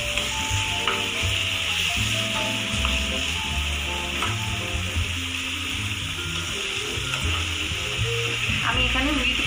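Chicken hits a hot pan for a Bengali curry, giving a loud continuous sizzle and crackle of frying close by, with wooden scraping and stirring noises mixed in and no talking.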